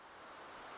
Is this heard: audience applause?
no